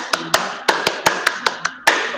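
A group clapping game in a training session, about ten sharp claps in a brisk, uneven rhythm, close and clear with a short room echo after each.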